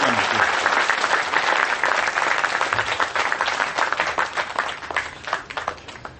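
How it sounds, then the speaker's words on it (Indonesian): Audience at a Kenduri Cinta gathering gives a dense burst of applause, loud at first and thinning toward the end, with a few voices mixed in. "Tepuk tangan semua teman-teman sekalian untuk cinta kita bersama."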